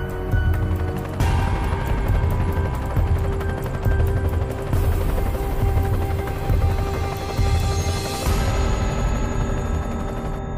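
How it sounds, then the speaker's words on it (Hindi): Helicopter flying, heard as a loud, steady rhythmic rotor chop with a strong low-end throb and mechanical whine, continuing without pause, with abrupt shifts in brightness partway through. "हेलीकॉप्टर उड़ रहा है और उसके पर घूम नहीं रहे"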